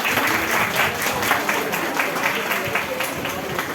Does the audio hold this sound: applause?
yes